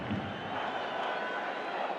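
Football stadium crowd roaring after a goal in an AFC Champions League Elite match between PFC Nasaf and Al Hilal: a steady, dense wash of cheering from thousands of fans, heard from a distance without a break.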